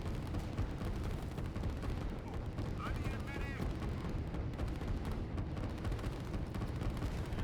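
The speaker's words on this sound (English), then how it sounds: "The artillery in the mountains is doing its absolute best" Artillery fire in the real-time strategy game Line War, dense continuous booming and rumbling explosions layered under a commentator's voice for the whole stretch.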